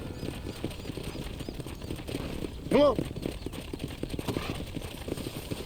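Horse hooves clip-clop steadily in the Western video game Red Dead Redemption, a rhythmic patter running under a short spoken line and a brief louder vocal burst.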